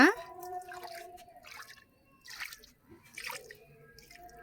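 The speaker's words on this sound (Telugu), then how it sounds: "మన మొక్కలకు పోసుకుందాం" Homemade liquid plant tonic is poured from a container onto a potted guava plant in a few soft, separate splashes and drips, faint and close, with someone talking between them.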